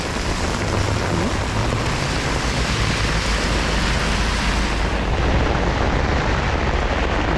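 Heavy rain pours down in Canada, a dense, steady roar of downpour that stays loud and unbroken throughout, with no talk over it.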